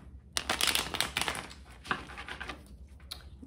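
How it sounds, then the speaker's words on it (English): Tarot cards riffle and slap together in quick, close bursts, a brief shuffle of soft papery flutters. "Get a good shuffle."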